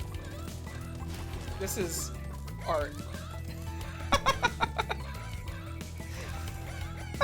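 Chickens squawk and cluck amid a busy, noisy soundscape in Spyro the Dragon Reignited, with a voice speaking briefly over the commotion.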